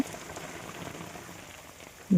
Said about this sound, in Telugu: చూడండి ఎలా పడుతుందో వర్షం